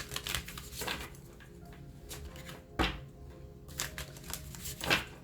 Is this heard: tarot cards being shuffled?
yes